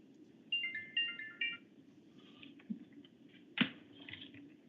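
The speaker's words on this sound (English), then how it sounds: "I'm trying to turn off my phone." A phone ringtone goes off during a board of health and finance committee meeting, a short run of bright repeated electronic tones near the start, then quieter room noise with a brief clatter.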